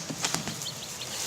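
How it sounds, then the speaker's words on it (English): Baby chicks flap their wings in a few quick, close, papery flutters, with faint high peeping between the bursts. "They're my baby birds."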